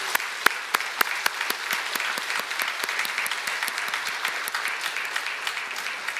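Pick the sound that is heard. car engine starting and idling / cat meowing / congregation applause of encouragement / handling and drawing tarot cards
congregation applause of encouragement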